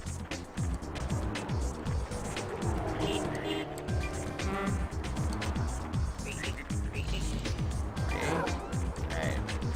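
Cars rush past in the Frogger 2: Swampy's Revenge video game, a busy game soundscape of repeated quick whooshes and engine swells, with a faint voice now and then.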